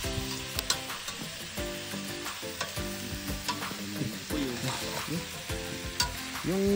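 Food sizzling loudly in a pan at an outdoor beach cookout, a constant frying hiss with stirring scrapes, under background chatter and tonal sounds.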